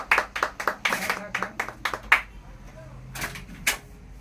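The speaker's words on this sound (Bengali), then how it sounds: "চলো কংগ্রেচুলেশন হাততালি মারো" Several people clap in quick, uneven bursts of sharp slaps for about two seconds, then a few scattered claps follow at a lighter pace, with voices in the background.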